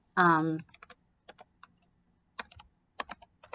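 A brief spoken word comes first, then scattered, irregular key taps on a computer keyboard while typing into a Statista search box. The clicks are close and crisp, arriving in small clusters with pauses between them.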